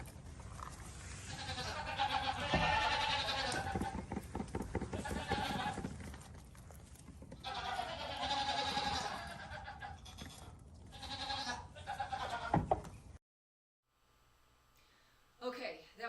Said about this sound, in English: Can we do the baby goats real quick?